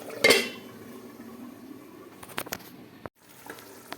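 A utensil knocks and clinks against a pot while parboiled potatoes are scooped out for chicken biryani, a sharp metallic clatter at the start followed by a few lighter taps, close by with no talk.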